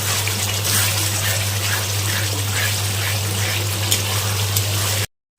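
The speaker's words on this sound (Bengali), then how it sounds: "দিয়ে দেবো জল" Water gushes steadily into a pan of spiced pea curry being fried for a vegetarian dish, a continuous close pour with a low hum underneath, ending abruptly in silence.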